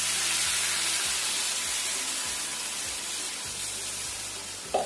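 Water being poured into a hot pan of frying tempeh and tofu, a loud, steady hissing sizzle that fills the whole stretch, with no one talking.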